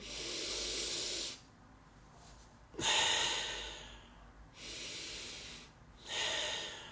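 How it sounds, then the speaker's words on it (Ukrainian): Long, forceful breaths from a person doing a breathing exercise, heard up close as hissing exhales and inhales that alternate in a slow rhythm, with one sharper snort-like breath near the middle. "Тобто робимо повний видих і."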